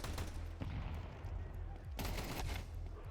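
Tech-9 pistol gunfire in Counter-Strike 2 during a CS2 Austin Major 2025 playoff match, a few sharp shots spread over the clip amid steady game and crowd noise.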